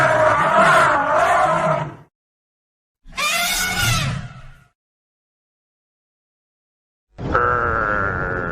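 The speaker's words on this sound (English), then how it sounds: "Elephant." An elephant calls in three loud bursts: a long rumbling roar, a shorter harsh trumpeting blast, then a sustained brassy trumpet after a pause, each close and dominant.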